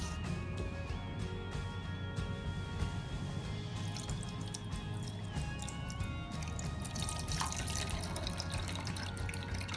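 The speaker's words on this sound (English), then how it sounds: "Now I'm going to pour some water into it." Water is poured into a homemade vortex fountain built around an aquarium motor, giving a steady trickling, splashing stream with dripping that grows brighter and fuller partway through, close and moderately quiet, with no voices.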